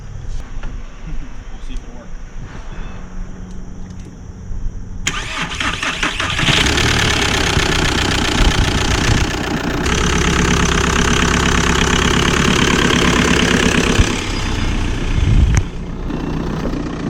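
A Volkswagen TDI diesel engine, a 2001 ALH unit from a Beetle swapped into a barn-find Caddy, cranks, catches and settles into a loud, steady clattering idle after a few quiet seconds, with voices faintly underneath.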